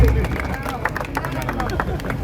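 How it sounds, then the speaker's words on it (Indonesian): Crowd clapping and cheering at the opening ceremony of Bank Aceh's Kampung Ramadan event, where the governor strikes a bedug drum. The applause is loud, dense and sustained over a babble of voices. "Tepuk tangannya."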